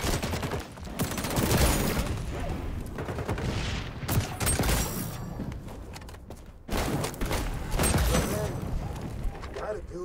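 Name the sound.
gunfire in the video game XDefiant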